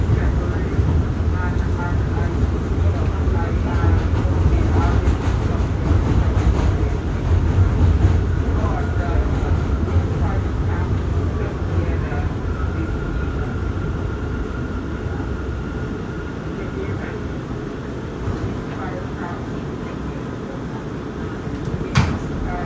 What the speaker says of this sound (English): This is a Queens-bound J train.